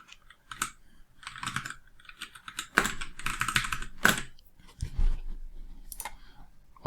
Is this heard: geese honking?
no